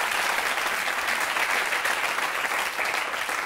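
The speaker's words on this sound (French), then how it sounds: "on l'applaudit alors" A French television talk-show studio audience breaks into steady, dense applause that holds at an even, loud level throughout, with no voices rising above it.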